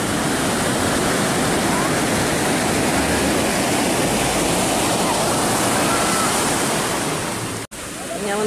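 Loud, continuous roar of Pacific Ocean waves crashing and washing onto the shore, a dense wall of surf noise close by.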